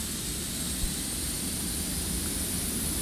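A steady, loud turboprop engine roar in the X-Plane 11 flight simulator, with a hissing, whooshing texture and a faint high whine, drones on without change, like an aircraft engine idling close by.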